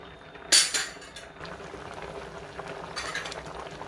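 Sambar bubbling in a pot on the stove, a soft steady simmer with a sharp metallic clink of a utensil against the pot near the start, close and moderately quiet with no talk.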